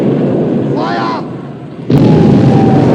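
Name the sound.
warship guns firing and shell explosions, from a film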